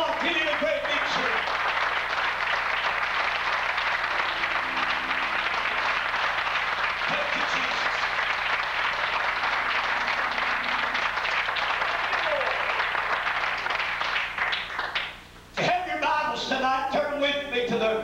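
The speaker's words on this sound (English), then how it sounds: "Come on, give Him a great big cheer." A church congregation breaks into long, dense applause mixed with cheering, loud and continuous for most of the stretch, then dropping briefly before voices and clapping pick up again.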